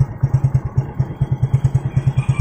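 A second-hand Suzuki Smash 115 motorcycle engine idles close by with a rapid, steady, even thumping pulse and a mechanical clatter. It runs alone, with no talking.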